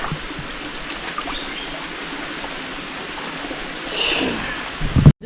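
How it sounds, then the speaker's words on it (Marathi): A small trickling stream seeps through a dense forest, giving a steady, soft wash of running water that swells a little toward the end, with a brief louder rustle near the close. "हा साईडला ना बारका झिरपाट आहे त्याला पाणी आहे"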